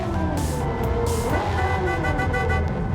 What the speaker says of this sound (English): Why did they allow us to have horns in the lobby?